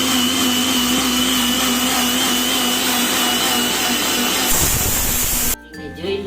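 An electric blender grinds corn with water into a smooth paste, a loud steady whirring drone that runs for several seconds, then cuts off abruptly into quieter clatter at the end.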